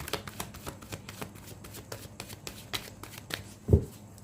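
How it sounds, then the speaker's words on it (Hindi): A deck of cards is shuffled at close range, making a quick series of crisp riffling flicks that end in a firmer thump as the deck is squared. "One more shuffle, thank you."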